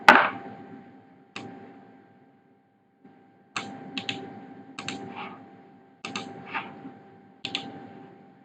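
Typing on a computer keyboard during a web programming lesson on model-view-controller: scattered, close clicks of single keys and short bursts separated by pauses, moderately loud in a quiet room, with no talking.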